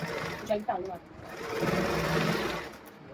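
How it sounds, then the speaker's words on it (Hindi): A sewing machine runs a fitting seam down from the sleeve of a suit, a steady mechanical whir that starts, pauses briefly and then hums continuously, with talking at the start. "तो यहाँ से स्लीव से हमने फिटिंग की सिलाई करना स्टार्ट करनी है।"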